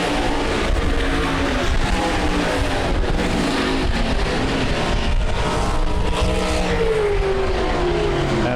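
Race cars lapping the dirt oval at Rapid Speedway during the Nationals: a continuous loud roar of several engines, with pitch rising and falling as the cars accelerate through corners and pass.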